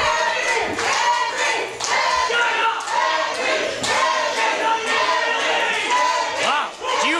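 Wrestling fans roar for Henry the Great's ring entrance at a WAW show, a loud, dense wall of shouting and cheering with surging yells that holds steady throughout.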